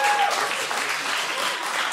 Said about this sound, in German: Das hat sie, glaube ich, jetzt einmal einen Applaus verdient.